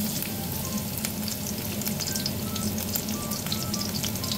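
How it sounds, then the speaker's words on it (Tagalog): Chopped garlic sautéing in hot cooking oil at the start of a stir-fried chicken feet dish, a dense, continuous close-up sizzle and crackle that stays even throughout, with no voices. "igisa na po natin ang ating chop na bawang"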